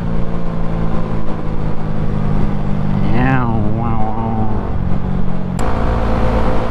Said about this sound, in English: Fourth gear, full throttle,